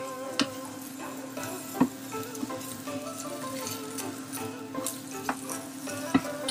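Garlic frying in a pan for Chinese-style garlic green beans, a quiet steady sizzle broken by occasional sharp clicks and taps of a utensil against the pan.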